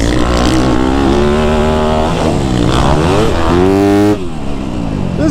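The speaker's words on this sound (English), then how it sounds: "This is a corner where the 450 just gets me every time. He blasts off out of here." Dirt bikes, a KX450 and a YZ250F, roar loudly through a corner on a motocross track, their engines revving up and down in rising and falling pitch close by, with a brief drop in intensity near the end.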